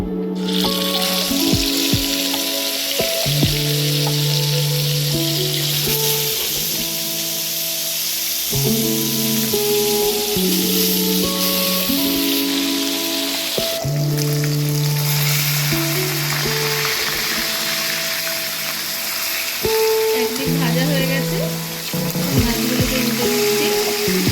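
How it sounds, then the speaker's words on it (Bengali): Fish pieces frying in hot white oil in a wok, a steady loud sizzle and crackle running throughout with clinks and stirring knocks of utensils layered over it, no voices. "তেলটা গরম হয়ে গেছে এবার আমি একে একে মাছগুলো ছেড়ে দিচ্ছি"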